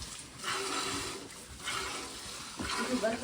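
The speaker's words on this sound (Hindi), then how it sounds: "इतना पानी आ रहा है यहाँ पर, पता नहीं कहाँ से आ रहा है।" Rainwater running through a village house in Uttarakhand, a continuous rushing, splashing flow that swells in waves, with a person talking over it.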